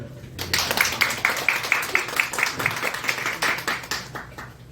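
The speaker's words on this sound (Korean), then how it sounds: "큰 박수" Guests at a Korean early-childhood education society's New Year reception give a steady round of applause, with brisk, evenly spaced claps continuing for several seconds, fairly close and full, and faint voices underneath.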